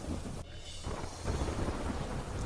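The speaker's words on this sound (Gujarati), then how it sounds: "ડાંગ જિલ્લામાં વરસાદે ધડબડાટી બોલાવી" Heavy monsoon rain pours down in Dang district while thunder rumbles, a dense steady hiss of rainfall with a deep rolling boom, loud and without voices.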